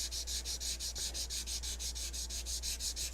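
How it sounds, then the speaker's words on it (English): An ultra fine sanding sponge gently rubs over painted lettering, making about a dozen soft, even back-and-forth strokes in a steady rhythm, close up and alone. "So I'm going to use one of these ultra fine little sanding sponges"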